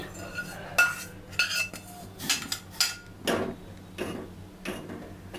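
A spoon stirs vermicelli payasam in a metal pot, giving a run of separate scraping clinks and taps at an irregular pace, close and fairly quiet, with no talk.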